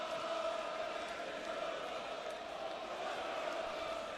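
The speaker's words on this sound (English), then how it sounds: "Crowd singing there's only one Dave Chisnall." A darts crowd at the World Darts Championship chanting for Dave Chisnall, a dense sustained roar of massed voices singing together throughout.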